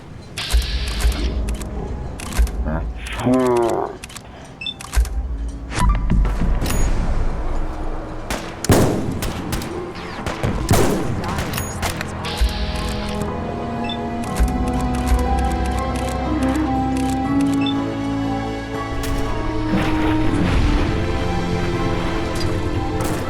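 Gunfire in a Fallout 4 Far Harbor battle: sharp shots crack out loud and repeatedly in irregular bursts, mixed with mechanical clanks and creaks, with no talk over them.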